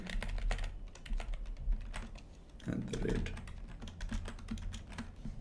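Rapid typing on a computer keyboard, a dense run of close, crisp key clicks with an irregular rhythm that carries on throughout, with a brief low murmur partway through.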